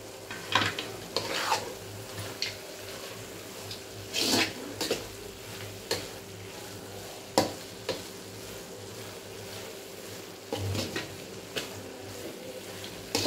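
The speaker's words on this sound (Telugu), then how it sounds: "జర కొవ్వ మంచిగా కలుపుకోవాలండి, వేడికి కరిగిపోతుంది కొవ్వ." A spoon scrapes and stirs khoa into carrot halwa in a hot pan with cardamom, giving intermittent close scraping strokes over a soft sizzle and no talking.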